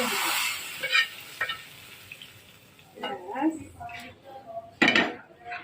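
Dal being tempered with fried onions and bay leaf in a pot gives brief sizzles and hissing bursts mixed with clanks of a metal pot and spoon, the sounds coming in uneven clusters with quiet gaps between.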